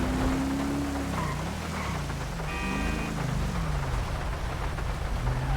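Steady rain pours continuously in GTA 5, with a car engine humming and shifting pitch underneath.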